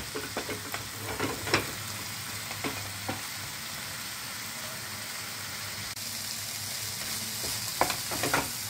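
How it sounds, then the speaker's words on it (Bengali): Spice paste sautéing with potatoes and pointed gourd for potol aloo korma, a low steady sizzle broken by occasional spatula scrapes and clinks against the pan, close but fairly quiet, no talking. "মশলাটা কষিয়ে নিয়েছি আলু পটলের সাথে"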